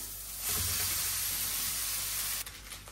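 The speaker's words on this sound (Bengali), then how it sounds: "এই যে এখন ভাতটা দিয়ে দিই।" Cooked rice tipped into a pan with fried potatoes and other vegetables for fried rice sets off a loud, steady sizzle close by, easing slightly near the end, with no voices.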